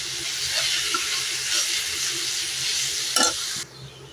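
Capsicum and mixed vegetables stir-frying in a pan for a Tamil three-colour vegetable poriyal, a steady close sizzle with scraping stirs and a brief louder clatter near the end before it drops quieter.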